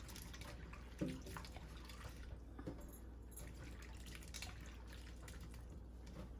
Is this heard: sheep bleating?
no